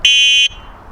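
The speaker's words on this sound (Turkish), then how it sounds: "Korna sesi bile farklı bakın." The horn of a Motolüx F4 electric bike gives a single loud, shrill electronic beep lasting about half a second, then cuts off abruptly to quiet.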